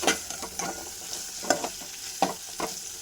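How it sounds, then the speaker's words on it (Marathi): Sambar masala tempering sizzles and fries in a pan while a spoon stirs it, a steady close crackle broken by several sharp scraping strokes. "हे छान मिक्स करून घेऊया एक मिनिटभर परतून घेऊ"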